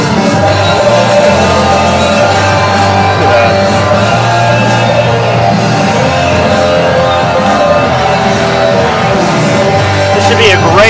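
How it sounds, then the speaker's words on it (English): A wrestling crowd in Boone roars steadily for Jimmy Rockwell at a 3XWrestling show, a loud continuous wall of cheering and shouts that holds for the whole stretch. "Jimmy Rockwell, strong response from the crowd here in Boone."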